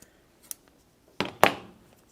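Pinking shears make two quick, crisp snips close by after a few faint clicks, with no talking.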